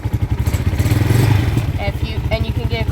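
A Vitacci Pentora 250 motorcycle engine idling just after starting, with a close, loud, rapid low thumping pulse that holds steady for a few seconds, with a voice talking briefly over the end.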